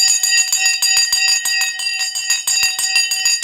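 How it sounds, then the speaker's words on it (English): A stock market opening bell rings continuously with a bright metallic clang, loud and steady for several seconds with no talk. "The bell has now gone."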